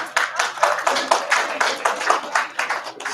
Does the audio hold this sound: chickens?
no